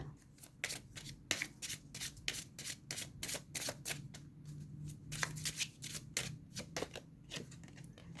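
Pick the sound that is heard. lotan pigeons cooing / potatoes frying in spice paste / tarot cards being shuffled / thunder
tarot cards being shuffled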